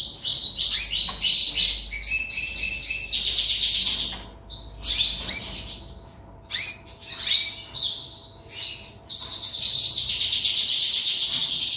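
North Holland canaries in yellow and white chirp and trill steadily in an aviary during breeding season, bright overlapping song phrases with brief pauses, close and fairly loud throughout.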